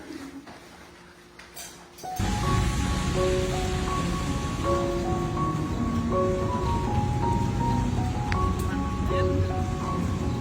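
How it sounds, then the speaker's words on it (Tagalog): Steady rain falls outdoors, coming in after a couple of seconds as a loud, dense hiss that fills the rest of the clip, with a few brief tonal sounds over it. "Ulan."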